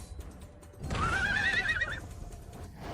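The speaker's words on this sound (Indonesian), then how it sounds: "Kuda putih suci." A white horse gives one loud, wavering whinny lasting about a second, with faint hoof clops around it in a dramatized fantasy scene.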